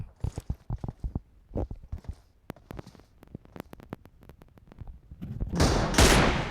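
Rapid bursts of video game gunfire crack in quick succession with short gaps between them, building into a denser, louder volley near the end.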